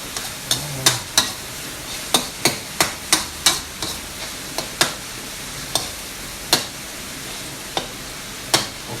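Pork stir-frying in a pan for fried rice, a low constant sizzle broken by sharp, evenly spaced clacks of a spatula against the pan, fast at first then slowing, close and with no talking.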